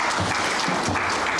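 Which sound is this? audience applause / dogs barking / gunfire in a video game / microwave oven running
audience applause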